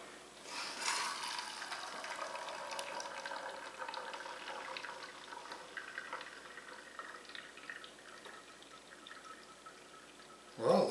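Hot water is pushed through a K-cup in a My Joe single-cup coffee maker, producing a continuous pouring, trickling flow that gradually fades, followed by a short louder handling noise at the end.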